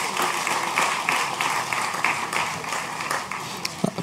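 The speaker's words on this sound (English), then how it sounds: "Can we give her another round of applause, please?" An audience at a national investiture ceremony applauds a performer, a close, lively wash of many hands clapping, with brief louder claps standing out near the end.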